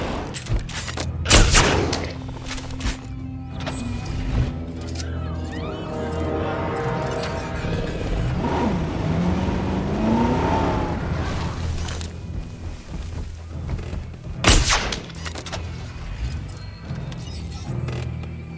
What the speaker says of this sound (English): Ranger vehicle under attack.